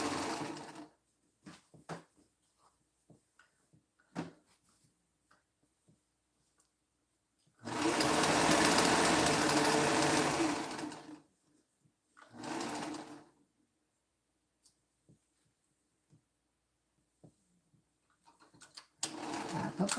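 A sewing machine stitches fabric in short bursts: one long whirring run of several seconds, a briefer run after it, and quiet handling sounds and small clicks between.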